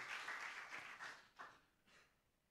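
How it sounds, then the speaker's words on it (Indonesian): A church congregation gives a short, fairly faint burst of applause during a sermon, fading out over a couple of seconds in bursts. "Tepuk tangan buat Tuhan Yesus"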